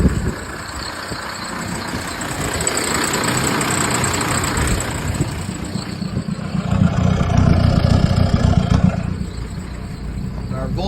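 A 1981 VW Rabbit pickup with a swapped AHU/1Z TDI diesel engine, freshly started, revs up from idle. The engine note swells and holds close and steady before easing back down.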